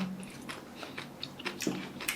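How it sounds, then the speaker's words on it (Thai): Crunchy homemade Korean kimchi, fermented about two weeks, being chewed up close, with soft irregular bites and crisp crunches over quiet background and no speech. "อาจจะได้ยินเสียงตอนเคี้ยวนะ อันนี้คือกิมจิที่ทำประมาณน่าจะสองอาทิตย์แล้วนะ มันยัง กรุบอยู่เลย"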